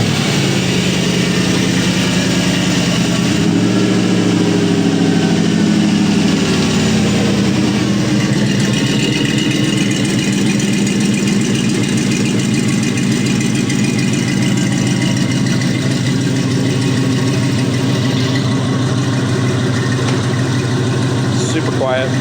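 A 4.8L Gen3 V8 engine package on a run stand idles steadily and loudly after start-up, a constant close rumble throughout with occasional talk nearby.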